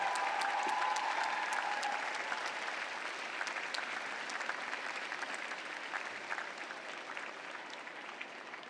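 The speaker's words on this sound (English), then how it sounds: "Give your loved ones a round of applause." At a graduate school commencement ceremony in 2017, a large indoor audience applauds steadily for several seconds, the clapping dense and even and slowly easing off.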